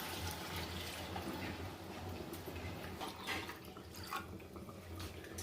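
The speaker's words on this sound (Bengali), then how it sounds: "আমি প্রায় 3 কাপের মতো জল দিলাম।" About three cups of water are poured into fried rice in a pot while making mutton polao, giving a steady, soft, continuous splashing and trickling that lasts throughout, with no talking.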